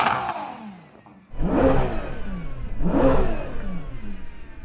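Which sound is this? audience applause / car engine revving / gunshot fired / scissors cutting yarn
car engine revving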